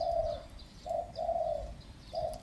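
A spotted dove coos in repeated low, soft phrases with short pauses between them, fairly close, while faint chirps sound higher up in the background.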